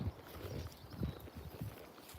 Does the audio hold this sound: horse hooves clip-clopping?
yes